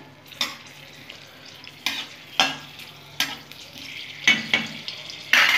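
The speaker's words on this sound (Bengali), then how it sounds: "শুকনো লঙ্কা ফোড়নে দিয়ে দিলাম। ফোড়নটা একটু ভাজা ভাজা হয়ে যাবে।" Hissing sizzle of dried red chillies frying in hot oil, broken by several sharp clatters as a spoon stirs the pan at close range.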